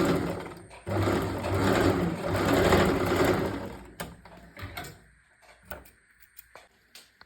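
Sewing machine running while stitching the cross pieces of a cotton nighty, a loud continuous whir that stops partway, followed by scattered clicks and handling knocks of fabric and machine parts.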